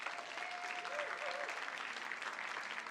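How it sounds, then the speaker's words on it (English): Clapping from a church congregation at a Sunday service, honoring an outreach team: steady, moderately distant applause fills the whole three seconds, with a faint tonal whistle briefly audible underneath. "let's give these folks a big round of applause."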